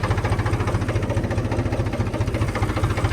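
A tractor engine idles steadily on a sugarcane farm, a loud, close low chugging with regular pulsing throb and no voices over it.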